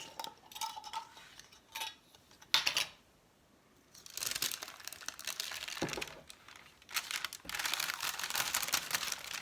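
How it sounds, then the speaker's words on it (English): Dry dehydrated egg powder pours and rustles in bursts from parchment paper into a glass jar, with crinkling paper between, a close, continuous gritty hiss without any talking. "And then pouring it directly into my jar."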